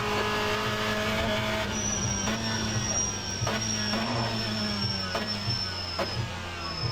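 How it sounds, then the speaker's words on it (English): A race car engine in the LFM racing video game, droning steadily and dropping in pitch through downshifts, with a faint high whine and brief tyre noise over continuous engine sound. "Might have just hurt the engine a little bit there with that downshift."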